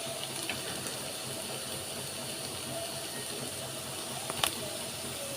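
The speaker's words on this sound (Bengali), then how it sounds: "এখন আমি প্রথমে আলুগুলো ভেজে নেব" Potatoes dusted with turmeric fry in hot oil, giving a faint, steady hiss with a few brief crackles near the end.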